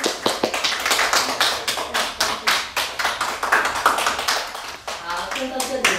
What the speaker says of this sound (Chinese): 我们给他掌声